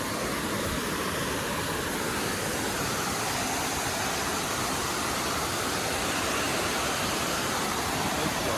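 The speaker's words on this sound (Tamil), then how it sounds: "வாட்டர் ஃபால்ஸ் கிட்ட" Steady broadband roar of a forest waterfall near Kodaikanal, loud and continuous throughout with no breaks and no voices over it.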